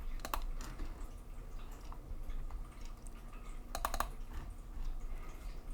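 Sharp double clicks of a computer mouse, one pair early and another cluster near the end, faint and close over a quiet hum with soft incidental taps between.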